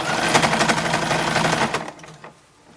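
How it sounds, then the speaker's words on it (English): A sewing machine stitching binding, lining, fashion fabric and collar together around a neckline of a 1910s–1920s style toddler summer dress, a rapid close mechanical whirr that runs steadily, then stops with a few final clicks. "So it's sewing the lining and the fashion fabric and the collar and the binding on at all the same time."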